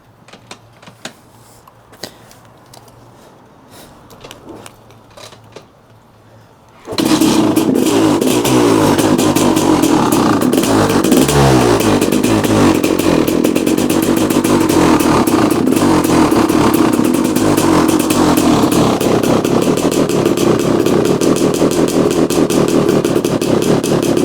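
A 2016 KTM 300 XCW two-stroke dirt bike starts with no choke, then runs loud and close in a steady, buzzing idle with slight revving. Faint clicks and handling noises come before the start.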